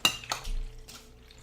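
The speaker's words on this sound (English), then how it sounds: "when you take the sauce from the pot" Tomato sauce scooped from a pot, with a sharp metal clink at the start, a soft scraping sweep and a couple of fainter clinks, close and fairly quiet with no talk.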